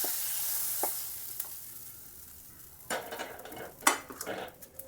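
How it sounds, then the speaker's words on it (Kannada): Ground onion paste frying in a hot pan for obbattina saaru, a soft continuous sizzle broken by a few sharp scrapes and clinks of a spoon stirring against the pan. "ಇವಾಗ ಇದನ್ನು ಕೂಡ ಈರುಳ್ಳಿ ಏನು ರುಬ್ಬಿಟ್ಕೊಂಡಿದ್ದೆ ಇದಕ್ಕೆ ಹಾಕೋತೀನಿ"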